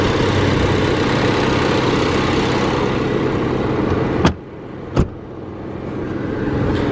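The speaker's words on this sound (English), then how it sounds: "Nice little engine under there." 2020 Jaguar E-Pace P250 AWD engine idling close by in a steady, even hum, briefly broken by two sharp clicks or thumps near the end before the idle settles back.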